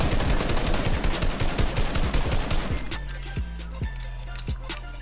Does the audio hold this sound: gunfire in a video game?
yes